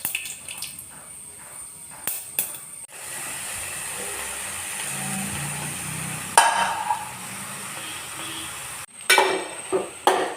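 Ivy gourd thoran with coconut is tossed and stirred in a pan, giving a few sharp metallic scrapes and taps over a steady soft sizzling hiss.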